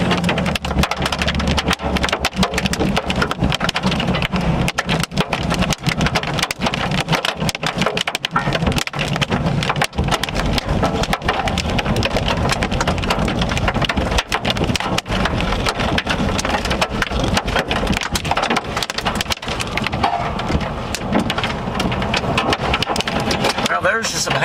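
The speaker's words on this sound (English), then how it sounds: "there's really no rain, just hail falling" Quarter-size hail falls near an Oklahoma interstate intersection during a severe storm with almost no rain, a dense, loud, relentless clatter of hard impacts, with people talking over it.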